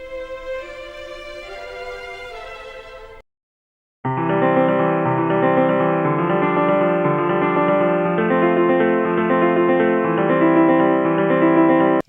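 Piano plays broken chords built on Mozart's first four notes: a short phrase, a brief pause, then a longer, fuller passage of rolling arpeggiated chords, steady and clear with no talking.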